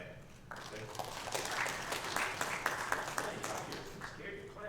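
Church congregation applauding during Sunday morning service announcements at a Baptist church, a dense, steady wash of many hands clapping at moderate distance that starts after a brief pause and continues throughout.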